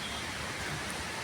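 Steady rain falling outdoors among tall swaying trees, with wind adding a dense, even hiss that holds constant and fairly quiet throughout, no voices present.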